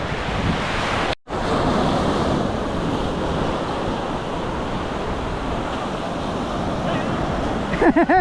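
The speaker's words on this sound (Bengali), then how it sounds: "এরকম সমুদ্র একসাথে হয়ে যাচ্ছে দুই পাশ থেকে এসে ঢেউ বাড়ি খাচ্ছে" Sea waves crashing in from two sides at Tangalle beach in Sri Lanka: a loud, continuous surf roar with wind noise, a brief dropout early on, and a faint voice near the end.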